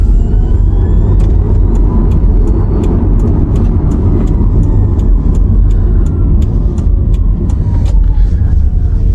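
BYD ET3 electric van accelerating, heard from inside as a steady, loud low road and motor rumble with faint ticking clicks, alone without talk.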